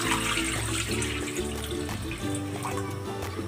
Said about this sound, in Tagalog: Maglalagay ako ng tubig.